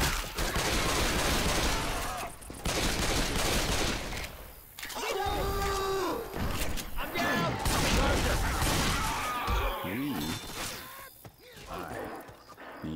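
Gunfire rattles through a Left 4 Dead 2 custom campaign, the Dark Carnival Remix on Advanced difficulty. Dense, near-continuous bursts of shots mix with game music and character voices, broken by brief lulls.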